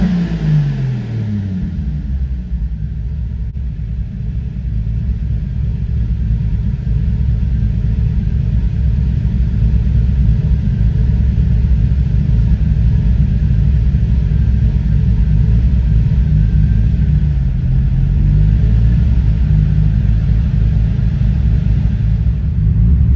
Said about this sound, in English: I'll go ahead and give it some gas and you guys can hear it'll rev up freely throughout the whole VE table.